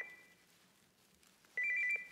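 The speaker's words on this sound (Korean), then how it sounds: "저기 나 또 전화 왔어" A telephone rings in a quiet room in a Korean TV drama scene, a short electronic ring tone that stops and then starts again louder and close by.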